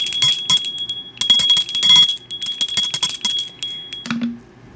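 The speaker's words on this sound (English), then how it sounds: "Let me ring a bell." A bell is rung during a quiet space-cleansing moment, giving several bright, ringing strikes with sustained metallic tones that overlap and slowly fade, close and fairly loud with no talking.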